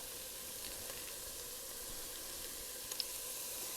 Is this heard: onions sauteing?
yes